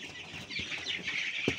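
Chickens and roosters in a coop, with soft clucking, brief wing flaps and rustling close by, fairly quiet and without talk.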